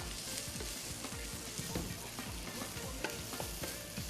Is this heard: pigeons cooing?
no